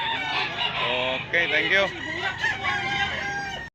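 A gamecock rooster for sale crows loudly and clucks up close, the calls overlapping with brief speech and other birds in the background.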